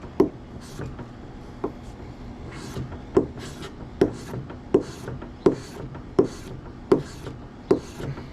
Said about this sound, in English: we'll run the blade multiple times on a 2x4